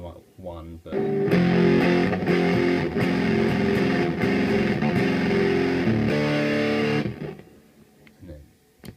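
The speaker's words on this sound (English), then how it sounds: "You'll hear a bit of noise, a little bit of hiss." A heavily distorted electric guitar plays loud fuzzy chords with some hiss, and brief speech comes just before and after the playing.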